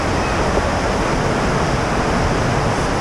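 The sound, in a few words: waterfall rushing on a gorge hiking trail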